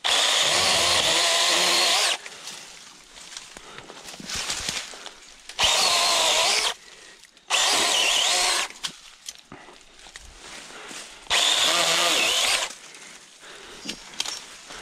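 A power saw cuts limbs at a beaver dam outdoors, loud whining bursts of cutting a couple of seconds long alternating with quieter idling and rustling gaps.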